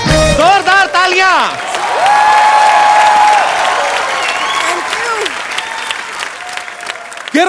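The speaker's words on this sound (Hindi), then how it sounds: "जोरदार तालियां।" Loud sustained applause from a large studio audience on The Kapil Sharma Show fills the whole stretch, with music playing over the clapping.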